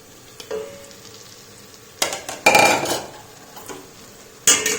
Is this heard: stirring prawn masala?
yes